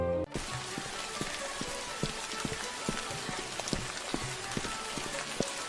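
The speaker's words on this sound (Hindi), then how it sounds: "यहाँ तो इतनी बारिश हो रही है।" Heavy rain pours steadily, with dense drops pattering on a surface and occasional louder splashes throughout.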